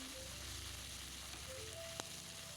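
Cabbage and tomato sizzle steadily as they are stir-fried for Hakka noodles, a soft continuous frying hiss with one sharp clink near the end. No voices are heard.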